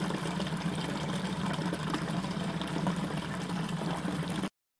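Wort runs steadily into a sanitized fermenter for a home-brewed batch, a constant close splashing and gurgling pour that continues without break and then cuts off abruptly at the end.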